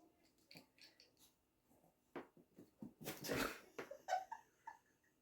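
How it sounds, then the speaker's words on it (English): A dog crunches a piece of dry pasta on the floor indoors, with short irregular cracks and chewing bursts interspersed with snuffling, close but fairly quiet. "My dog's found a bit of dry pasta on the floor and he's having a party with it."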